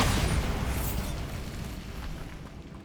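The Bombarda blasting spell from Hogwarts Legacy goes off as a loud, dense explosive roar at onset, then a long rumbling wash of debris that slowly fades.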